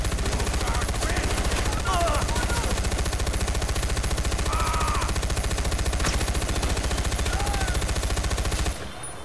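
Rapid automatic gunfire in the shooter video game Far Cry 4, a dense, continuous rattling burst that runs loudly for about nine seconds before cutting off abruptly.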